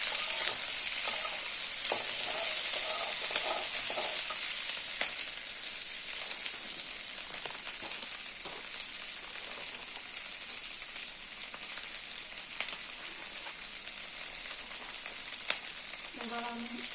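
Chilli paneer frying in a pan, a bright continuous sizzle with occasional scrapes and clinks as it is stirred, the hiss easing slightly partway through.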